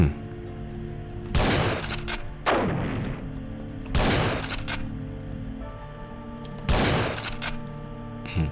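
A shotgun fires in a horror video game: four loud, sharp blasts spaced a second or more apart, each trailing into a short boom over low background game sound.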